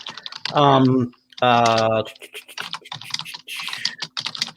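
Computer keyboard keys clatter in quick, irregular clicks during an online tabletop role-playing game call, mixed under people talking.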